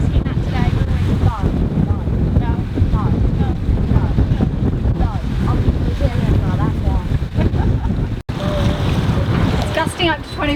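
Strong wind roars and buffets a sailboat under partial jib at sea, gusting up to 25 knots, with steady loud rushing and water wash throughout and a brief dropout near the end.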